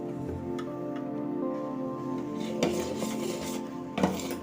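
Hot homemade jaggery stirred in a pan with the gas turned off, a continuous scraping and rubbing of a spoon against the metal with a couple of sharper knocks, close and steady, no talking.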